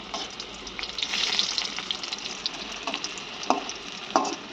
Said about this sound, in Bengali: এই যে এখানে আলুটা সিদ্ধ করে ভাজতে দিয়ে দিয়েছি